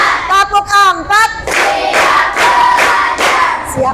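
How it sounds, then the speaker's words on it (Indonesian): Elementary classroom students doing a counted clap routine, sharp bursts of group clapping in short separated groups, with a teacher calling out counts over them and children shouting along. "Tepuk 1. Tepuk 2. Tepuk 3. Tepuk 4."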